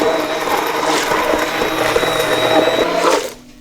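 An immersion blender whirs continuously through roasted tomato and vegetable soup with veggie stock, a close, steady buzzing that shifts slightly as it moves, then cuts off abruptly at the end.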